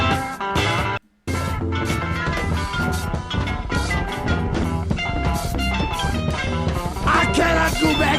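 Dense, chaotic rock from an album, with clattering drums, jagged guitars and layered instruments playing loudly throughout. A brief dropout breaks the sound near the start.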